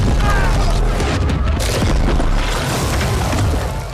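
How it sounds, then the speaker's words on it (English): A dense, booming explosion impact for a Mount Doom lava eruption roars loud and close, with a deep low rumble and crackling debris that slowly fade over four seconds. "we needed to create sort of an explosion impact sound"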